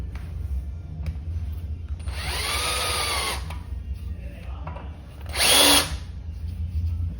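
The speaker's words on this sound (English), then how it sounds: "So to point the end of the screw, I'm just going to use the good old Dremel." A handheld Dremel rotary tool grinding a point onto the end of a screw for a Craftsman 109 lathe, two short bursts of high whine about 1.5 and 1 seconds long, separated by quieter shop background.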